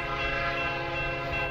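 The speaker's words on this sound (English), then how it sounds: "You hear the train?" A train horn sounds steadily and loudly for about a second and a half, a sustained tonal blast over a low rumble of the rail cars.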